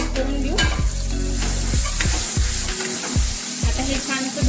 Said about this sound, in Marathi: भेंडी आपण मस्तपैकी यात अशी परतवून घेऊ